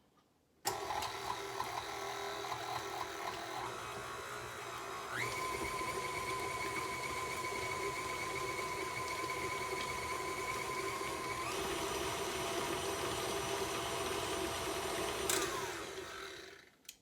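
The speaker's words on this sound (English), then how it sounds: "now I'm just going to put this on the mixer and blend it together." An electric mixer switches on and whirs steadily while blending ingredients for a taffy apple pizza, a fairly quiet constant motor hum with a speed change partway through before it shuts off, with no talking.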